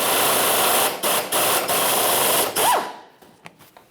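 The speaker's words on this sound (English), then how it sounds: "Now with a 14mm socket, I'm going to take the bottom mounting nut of that sway bar link off." A power tool with a 14mm socket spins off the bottom nut of a sway bar link on a 2013-2018 Toyota RAV4, whirring loudly in several short bursts with brief stops, then falling quiet with a few faint clicks.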